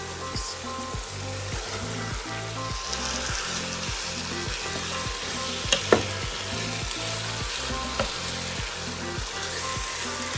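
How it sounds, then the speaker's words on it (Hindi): A kilo of chicken fries in cooked-down masala, with a steady dense sizzle and rhythmic spatula stirring scraping the pan throughout, plus a couple of sharper knocks near the middle; no voices. "चिकन भी अच्छी तरह भून लेंगे।"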